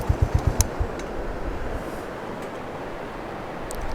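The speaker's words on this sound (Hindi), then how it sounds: "इस खामोशी में सिर्फ इस दरिया का शोर ही आपको सुनाई देगा, बाकी कुछ नहीं।" A river rushes beside the Khunjerab Pass mountain road in a steady, even roar, with a short run of sharp ticking at the start and nothing else over the water.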